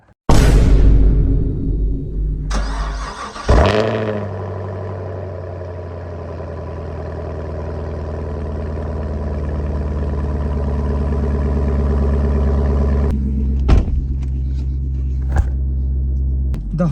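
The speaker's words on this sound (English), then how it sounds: "Alright, it's time for a cold start." Chevrolet Camaro engine cold start: a starter whirr, then the engine catches with a loud roar and settles into a steady, rumbling high idle, with a couple of sharp clicks near the end.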